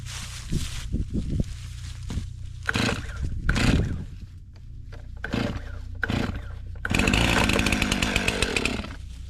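A STIHL chainsaw on full choke, its chain newly fitted with a new bar, is pulled several times in short sputtering bursts, then catches and runs loud and close toward the end.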